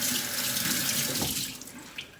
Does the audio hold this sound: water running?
yes